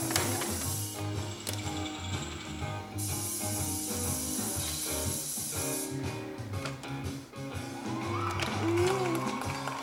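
A toy Matchbox car garage's elevator mechanism cranks with a steady, loud ratcheting clatter of gears and pawl that runs almost nonstop for about ten seconds.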